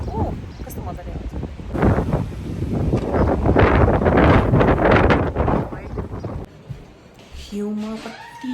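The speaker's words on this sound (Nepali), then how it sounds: "यस्तो मजाले हावा चलिरहेको छ।" Strong wind blows outside a house in Canada, rising into loud rushing gusts that buffet the microphone before easing, with a voice briefly heard near the end.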